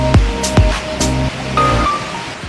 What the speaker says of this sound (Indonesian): Derasnya suara aliran sungai